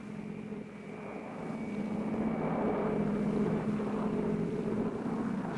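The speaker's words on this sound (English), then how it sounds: "240 helicopters swept over Thanh Ninh province." Helicopters sweeping overhead during a large air-mobile assault over a Vietnamese province, a steady droning engine and rotor roar that swells after the first second and holds loud and continuous throughout.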